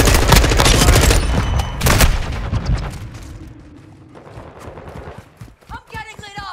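Heavy automatic gunfire and bursts in Call of Duty Modern Warfare 2 multiplayer, loud and dense for the first few seconds, then thinning into scattered shots and quieter battle noise.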